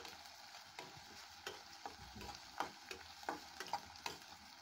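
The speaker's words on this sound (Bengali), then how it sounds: "পেঁয়াজটা আস্তে আস্তে সুন্দর করে ভেজে নেব। মিডিয়াম আঁচে পেঁয়াজটা ভেজে নিতে হবে যেন পুড়ে না যায়।" Onions fry slowly over medium heat in a pan, a soft quiet sizzle with regular light clicks and scrapes of stirring, close but faint.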